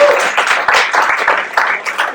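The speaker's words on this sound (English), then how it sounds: "one more round of applause." An audience applauds at a comedy show, with dense, loud clapping that carries steadily from start to finish.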